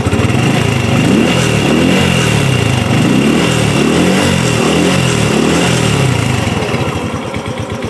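Underbone motorcycle engine revved repeatedly with the throttle, loud and close, rising and falling in several swells before it settles back toward idle near the end.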